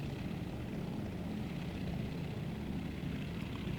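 Propeller engine drone of a Grumman S2F-3 Tracker in Microsoft Flight Simulator during a climb, a steady, even hum that holds constant throughout with no voices.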